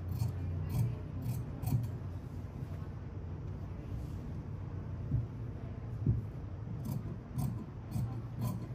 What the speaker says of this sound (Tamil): அந்த லைனில் இப்போ இதை நான் கட் பண்ணுறேன்.